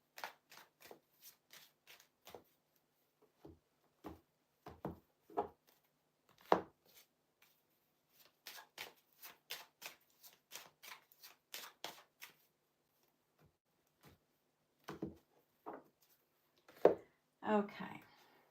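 Tarot cards are shuffled close up in a quiet room, a long run of sharp, papery riffles and soft taps in irregular bursts, with brief pauses between shuffles.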